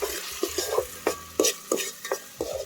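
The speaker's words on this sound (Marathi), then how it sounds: "मसाला चांगला तेल सुट्यापर्यंत भाजून द्यायचा" Masala roasting in oil on a village wood-fired stove for a spicy chicken curry, a close sizzle punctuated by rhythmic scrapes and knocks of a spoon stirring roughly every third of a second.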